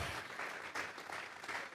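Congregation clapping in a church service, a dense burst of many hands applauding in uneven rhythmic waves, fairly close and continuous with no talk over it.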